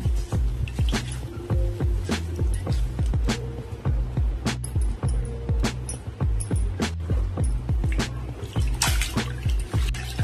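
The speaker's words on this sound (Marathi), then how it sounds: "पूर्ण दाबून पाणी काढून घ्यायचं भाजीचं" Wet, splashing water sounds with repeated squelches and drips, close up, as greens are pressed and squeezed, no talking.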